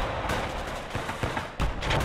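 Sherman V Tulip tank firing its rockets in the Gates of Hell Ostfront war game, a dense run of loud blasts and crackling gunfire with sharp bursts near the middle and end.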